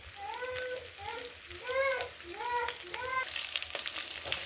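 Beef stew ingredients fry in hot cooking oil with a steady close sizzle, while high wavering chirp-like tones rise and fall above it in short bursts.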